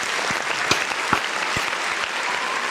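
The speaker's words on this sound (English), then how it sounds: "Round of applause." A small group claps steadily and fairly close in a studio during a Celtics basketball podcast, the sharp claps scattered and uneven with no one speaking over them.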